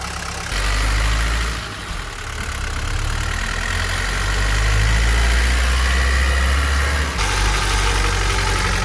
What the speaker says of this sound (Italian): Stiamo viaggiando col motore aperto.